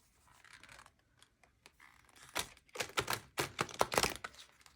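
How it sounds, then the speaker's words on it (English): Large, stiff tarot cards are shuffled in quick, crisp bursts of rapid riffling clicks, close and fairly loud, with quieter handling before the main shuffle. "Let's try 2 more of these awkward shuffles."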